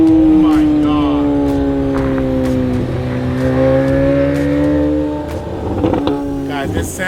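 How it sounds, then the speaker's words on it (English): A supercar engine revs hard nearby with a loud, sustained roar whose pitch climbs and sags across several throttle blips, while people talk excitedly over it. "It sounds like a freaking Aventador."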